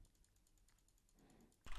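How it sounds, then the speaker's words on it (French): Mechanical keyboard keys clatter in a rapid, even run of soft clicks, recorded through a Shure SM7B microphone, faint and close, followed by a sudden louder knock at the end. "On passe au test du clavier mécanique avec le Shure SM7B."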